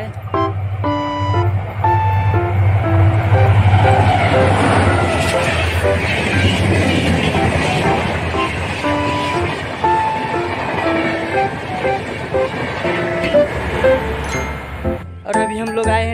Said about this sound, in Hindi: देखिए ट्रेन आ रहा है पीछे से।